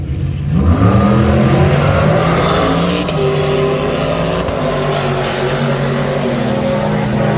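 Street-legal drag cars, including a Mustang convertible, launch at US131 Motorsports Park with a loud, close engine roar that rises in pitch as they pull away, filling the whole stretch without talk.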